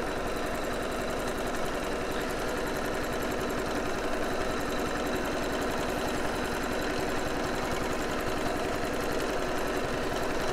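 A sewing machine stitches around a shadow quilt, running continuously as a steady, close mechanical whir with a fine rapid rhythm and no pauses.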